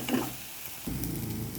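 Egg and masala being stirred in a frying pan, a soft sizzle that fades briefly and then returns stronger, close and quiet, with no voices.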